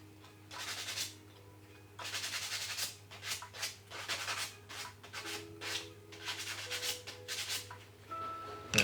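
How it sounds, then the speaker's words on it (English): Cut puppet pieces having their sharp edges sanded, with repeated scratchy rubbing strokes in short bursts and pauses over a steady low hum. "I'm just going to quickly sand off any sharp edges"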